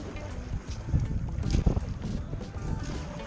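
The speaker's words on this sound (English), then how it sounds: "the wind is coming from this direction, blowing across this way" Wind blowing across a cove at a boat ramp, a steady rushing bluster with gusty buffeting on the microphone and faint water movement underneath.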